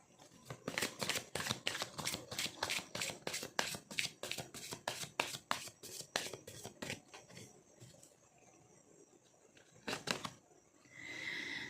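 Oracle cards being handled and shuffled for a card reading: a quick run of crisp, close riffling snaps, then quieter handling, one more brief riffle and a soft rustle, all faint with no talking.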